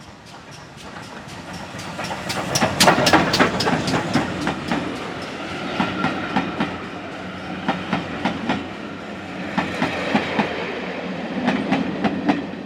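Steam locomotive and carriages running on rails, with rhythmic clickety-clack wheel beats over a continuous rolling rumble, loud and close as the train passes.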